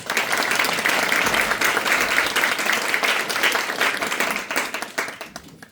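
A seated audience at the opening ceremony of a Korean student model UN conference applauds a speaker's introduction, with sustained dense clapping that fades toward the end.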